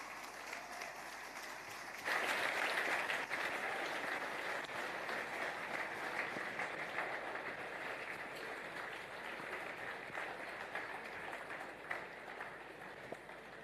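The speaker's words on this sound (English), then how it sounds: "Please give a warm round of applause for Ngozi Akinyele" Applause from a large audience at The Platform Nigeria event at The Covenant Nation greets Ngozi Akinyele. The steady, moderately distant clapping swells suddenly after a couple of seconds, then holds and slowly fades.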